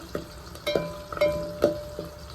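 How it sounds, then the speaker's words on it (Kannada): Small sambar onions frying in a pan, a soft sizzle broken by a few sharp clinks and scrapes of stirring, close and fairly quiet, with no talking. "ನಾನು ಈ ಥರ ಫ್ರೈ ಮಾಡ್ತಾಯಿದ್ದೀನಿ."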